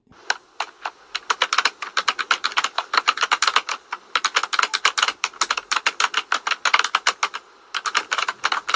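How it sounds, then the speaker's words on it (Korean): A typewriter-style typing sound effect laid over on-screen text, made of crisp, close key clacks in quick irregular bursts that continue throughout with short gaps. "이렇게 하니까 타자치는 것과 같지"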